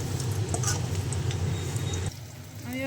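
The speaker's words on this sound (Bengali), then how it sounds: "তেলে আলুগুলোকে এখন ভাজছি" Oil sizzles and crackles steadily with potato pieces frying in a pan, a dense close hiss that briefly drops in level near the end.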